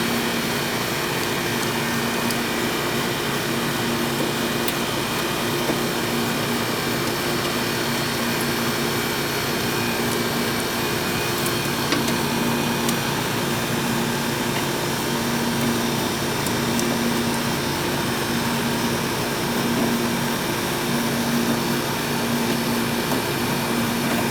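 An old air conditioning system running on R22 refrigerant gives off a loud, steady mechanical hum and whoosh that never changes for the whole stretch, with a faint tonal drone underneath and no voices.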